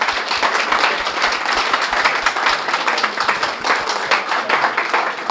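A crowd at a Chassidic gathering applauds one another, a loud, dense wash of clapping that holds steady throughout with a few distinct sharp claps near the start.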